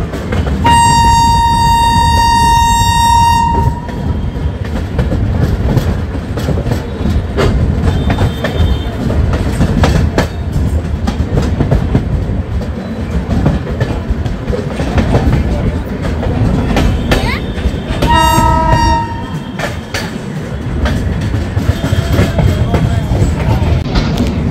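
The Mithila Express, a long-distance passenger train, sounds a loud sustained horn blast at the start, with a second shorter horn later over a steady rumble and rattle of the running train.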